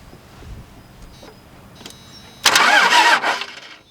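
A worn Cummins diesel engine, pulled from a scrap pile, cranks over on the starter for about a second of loud churning after a quiet stretch of faint shop noise.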